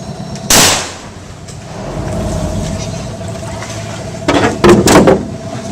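A single sharp, loud gunshot cracks out close by during a fishing trip on the Amazon River, then fades into background murmur, followed by a few knocking bumps and brief voices.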